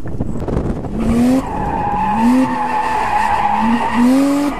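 Mazda RX8 drifting at a practice session, with loud, sustained tire squeal rising and falling in pitch as the car slides, its engine revving underneath, close and continuous.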